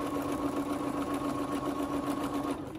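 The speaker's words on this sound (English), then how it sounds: "sewing along" A sewing machine runs steadily along a crochet panel bag, giving a close, continuous, even mechanical whir that lasts the whole moment.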